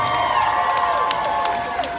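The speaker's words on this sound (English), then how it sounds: "Let's give her a round of applause." A rally crowd at an Equal Justice Rally in Columbus, Georgia cheers and applauds, a steady wash of clapping and shouts with whoops rising above it, fairly close and continuous throughout.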